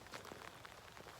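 Rain falls on a dairy farm with a muddy road, a soft steady patter of drops with no voices, faint and diffuse throughout.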